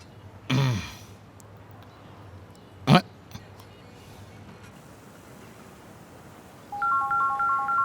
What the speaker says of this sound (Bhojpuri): अचानक के कर फोन आ गई।